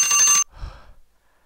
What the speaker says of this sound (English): that was the timer I had, and I forgot about it